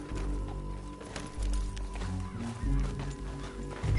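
Horse hoofbeats gallop in Red Dead Redemption 2, a steady rhythmic clatter sitting under a dense, fairly quiet bed of game music and ambience.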